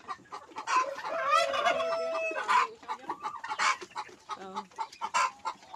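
Heritage chickens of several breeds, including Barred Plymouth Rock and Rhode Island Red, cluck in short repeated bursts as a rooster crows loudly nearby, with the clucking continuing steadily afterward.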